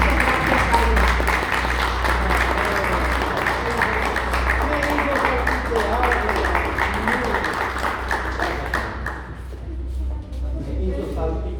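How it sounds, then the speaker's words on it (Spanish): Audience applause at an award ceremony for a cultural circle decoration, steady crowd clapping under a strong low hum and some voices, fading out near the end. "La señora Carmen Gauto, adelante, aplausos y muchas gracias"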